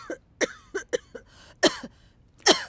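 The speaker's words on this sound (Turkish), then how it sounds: "sen çok kötü öksürüyorsun." A woman coughs badly, a series of harsh, wet coughs in irregular bursts, about six or seven, close and fairly loud with short gaps between.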